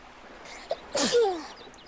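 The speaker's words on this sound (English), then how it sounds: "I'm gonna sneeze in a second." A single sharp sneeze bursts out close to the microphone around the middle, preceded by a short breathy catch and trailing off into a brief vocal tail, with quiet room background otherwise.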